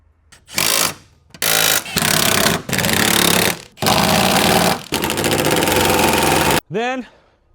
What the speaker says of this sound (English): We are going to lift up the car a few more inches.